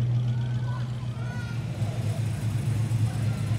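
A deep, steady Chevy engine rumble idles close by at a parade, low and continuous throughout, with faint background chatter.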